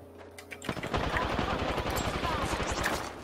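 Rapid automatic gunfire from the Apex Legends video game bursts in after a brief quiet start, a dense stream of shots continuing to the end, moderately loud.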